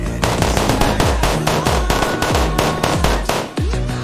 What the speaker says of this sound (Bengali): অল এভরিবডি আকাশের দিকে ফায়ার।